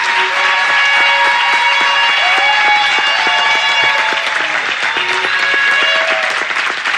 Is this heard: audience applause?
yes